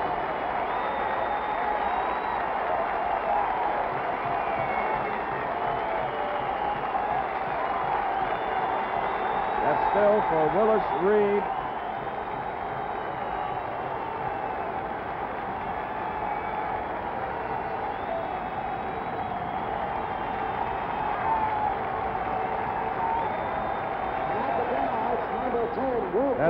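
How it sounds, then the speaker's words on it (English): A packed arena crowd applauds and cheers steadily as the 1970 Knicks players are introduced at Madison Square Garden, with a brief swell near the middle and an announcer talking over the roar throughout. "And now the audience stands and applauds Dave DeBuscher"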